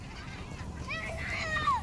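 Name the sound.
flock of seagulls calling at Millerton Lake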